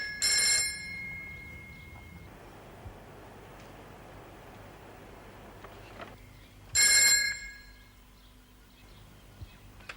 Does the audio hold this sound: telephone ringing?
yes